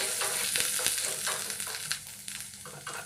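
Close, crackling sizzle of garlic frying in a hot pan, with occasional stirring scrapes and small pops throughout.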